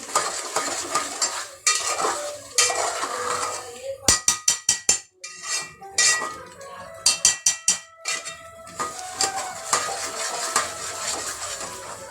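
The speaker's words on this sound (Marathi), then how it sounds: "हिला आपण आता चांगलं तेल सुटेपर्यंत परतवायचं आहे." Mutton masala sautéing in oil for a village-style spicy mutton curry, with a spoon clattering and scraping against the pan in quick bursts over a steady low sizzle, no talk.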